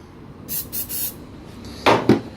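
Aerosol spray hisses in several short bursts onto the engine of a 1964 Toyota 700 left sitting in a shed for 40 years, three quick puffs followed by two louder, closer blasts.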